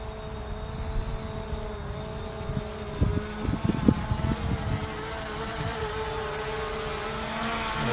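An SJRC F11 GPS drone flies overhead in strong wind, its propellers giving a steady whining buzz with wind buffeting and a brief burst of rumbling gusts partway through.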